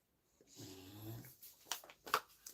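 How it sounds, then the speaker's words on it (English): A dog snores quietly nearby, a soft rumbling inhale followed by a few wheezy, snuffling breaths, faint and alone with no talking. "the dog snores too"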